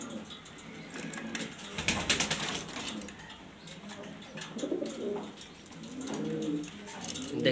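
Jharna Shatting pigeons coo in a loft, their soft repeated calls rising and falling close by, with some rustling and faint voices in the background.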